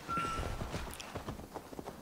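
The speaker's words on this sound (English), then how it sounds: "Fucking horse." Horse hooves in Assassin's Creed Valhalla clop in a quick, steady rhythm, soft and fairly close, alongside a faint thin tone at the start.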